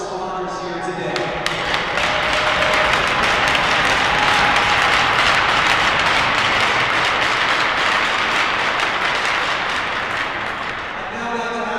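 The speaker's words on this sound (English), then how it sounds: "give a huge round of applause to all of our first responders here today" Arena crowd at a UCSB Gauchos ice hockey game applauds first responders, a loud sustained wall of clapping and cheering filling the whole span, with a few sharp claps at the start and the ovation tapering slightly at the end.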